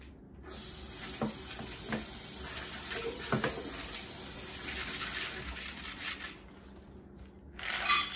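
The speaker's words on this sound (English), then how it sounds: "So I rinsed my black-eyed peas off" Dried black-eyed peas rinsed under running water, a steady close spray and gush with faint clattering of the beans throughout, the flow swelling louder near the end.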